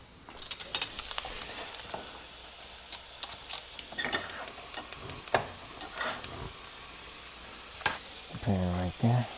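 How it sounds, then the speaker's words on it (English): Thick cut bacon frying in a pan, a steady crackling sizzle with scattered sharp pops and occasional stirring clatter, fairly close, with a brief voice near the end. "Some of the thick cut bacon right here. I forgot to add it to the pan."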